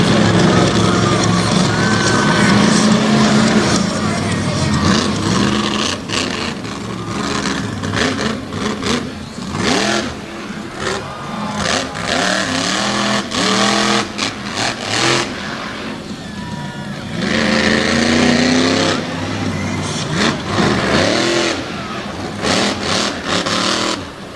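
Buckshot, Brandon Budd's monster truck with John Gulick horsepower, revs hard at Lake Erie Speedway: a loud, sustained engine roar with repeated rising and falling surges over a steady crowd, and a faint voice now and then.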